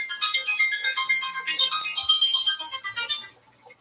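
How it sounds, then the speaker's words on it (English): Phone ringtone from an unwanted spam call, a loud repeating electronic melody pulsing steadily close by for several seconds before fading. "And there goes my phone."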